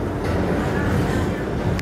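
A Flushing-line subway train rumbles steadily along the track with a dense low roar and a continuous rattle, close and loud throughout, with a voice talking over it.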